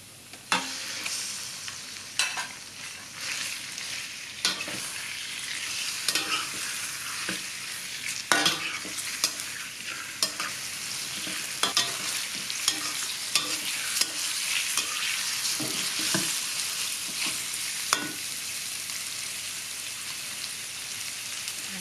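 Pork belly strips are stir-fried in a hot pan for a spicy curry-paste stir-fry with long beans, giving a continuous loud sizzle broken by repeated scraping stirs, with no talking.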